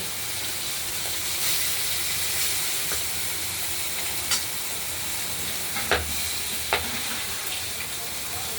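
Boal fish pieces frying in hot oil, a steady broadband sizzle with faint crackles and a few sharp pops near the end, alone with no talk.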